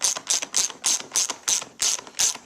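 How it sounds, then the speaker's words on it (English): A hand ratchet clicks in a steady rhythm of about eight short, sharp bursts while tightening the mounting bolts of a Cipher CAP1000 racing seat, close up and loud with no talk. "you can go ahead and torque the bolts down"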